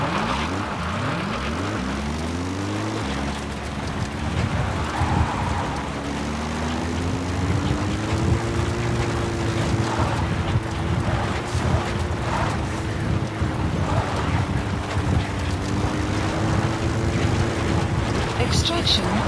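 Support helicopter in Metal Gear Solid V approaching, a steady droning rotor and engine roar with a sustained rising then level hum, continuous and loud throughout.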